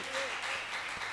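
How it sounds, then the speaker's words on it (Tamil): A congregation at a church prayer gathering claps together, producing a dense, steady wash of applause with a faint voice woven through it. "பெரிய கைத்தட்டல் கொடுத்துருவோமா அப்படிப்பட்ட தேவனுக்கு?"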